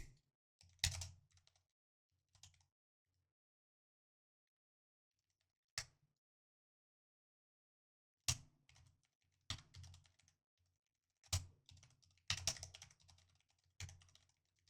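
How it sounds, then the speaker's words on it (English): Intermittent bursts of keyboard typing, quiet and close, with quick clusters of key clicks separated by pauses of silence. "hold on, I'm just typing some stuff out."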